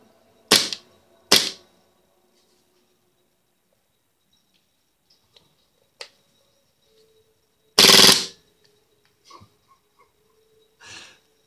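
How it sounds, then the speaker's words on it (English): A KWA airsoft gas blowback pistol is dry fired with the magazine empty, giving a few sharp isolated clacks of the slide cycling, loud and close, separated by quiet gaps. "I've pulled the spring down so I can dry fire it"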